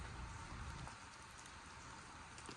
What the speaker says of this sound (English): And now there's just water drops falling off the trees, but it's not raining.